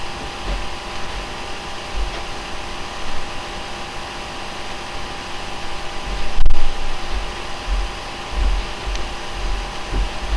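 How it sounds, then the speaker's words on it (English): A household vacuum cleaner runs with a steady broadband whoosh and low hum through the whole stretch, close by, with small swells in level and no talking over it. "my dad wanted to get the vacuum cleaner."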